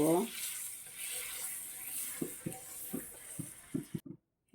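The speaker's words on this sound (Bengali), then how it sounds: "এই যে দেখুন বাটার দিয়ে দিচ্ছি" Butter hits a hot nonstick griddle (tawa) and sizzles with a bright, steady hiss, dotted with small pops and clicks near the end; a voice is briefly heard at the start.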